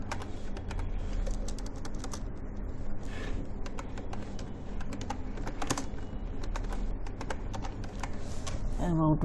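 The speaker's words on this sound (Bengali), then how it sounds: "এই লেখাটাকে যদি একটু এন্টার দিয়ে নিচে নামাই" Close computer keyboard typing with rapid, uneven key clicks and sharper Enter presses while editing a WordPress website home page, a voice talking over the clicks at times.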